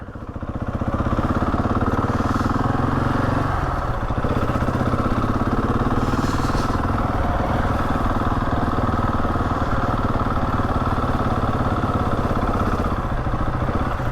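A 701 motorcycle engine runs steadily as the bike turns around on a country road, a loud, close, continuous mid-pitched drone with a constant rumble and no talking over it.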